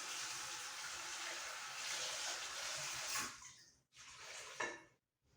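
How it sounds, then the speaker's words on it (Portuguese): Water running at a kitchen sink while cashew nuts are rinsed, a steady splashing flow that breaks off into short bursts and gurgles before stopping. "vou jogar fora a água do molho da minha pia e vou lavar bem as minhas castanhas"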